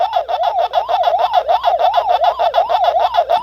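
Pac-Man game audio from the 2019 Basic Fun arcade port, a loud, steady warbling siren-like tone that rises and falls in a quick regular cycle, with no talking.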